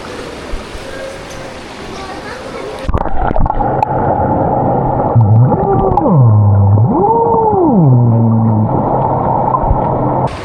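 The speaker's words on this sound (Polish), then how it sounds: "No dobra, rzuciłem kamerkę do wody." A DJI Osmo Action 5 Pro action camera is thrown into water and sinks. A brief splash gives way to muffled underwater ambience with a droning tone that bends up and down.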